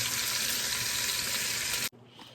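Turkey wing tips browning in a hot pan give off a loud, dense sizzle that stays constant for about two seconds, then cuts off abruptly into a quieter hiss.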